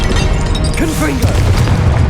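A Confringo blasting spell explodes in the Hogwarts Legacy video game, with a deep rumbling boom and crackle sustained loudly under game voices and effects.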